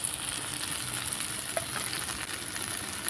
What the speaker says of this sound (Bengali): দিয়ে ভালো করে আমি মশলাটাকে কষিয়ে নেব।